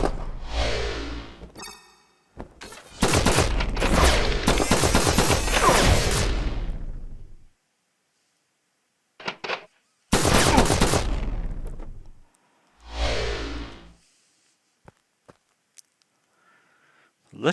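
Gunfire from the video game Flashback arrives in several loud bursts, a long sustained volley followed by shorter rattling salvos separated by silences, with a few faint isolated clicks near the end.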